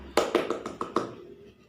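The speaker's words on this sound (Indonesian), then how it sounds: "Beri tepuk tangan kepada kelompok 4." A short burst of clapping from children in a classroom, about six sharp claps in a quick uneven rhythm that fade out after a second, with no talk over them.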